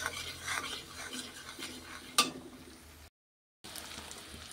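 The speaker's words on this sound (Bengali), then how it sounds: "এই জন্য দিয়ে এইভাবে ভালো করে ডিমটাকে নেড়ে নিব।" Eggs are beaten in a bowl with soft, repeated scraping and light clinks of a utensil, close and fairly quiet, broken by a short silence near the end.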